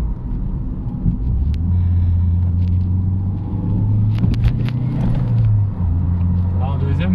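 A Renault 21 2L Turbo saloon pulls hard in second gear, its engine a loud, steady rumbling drone with a rising note heard from inside the cabin, as someone speaks over it.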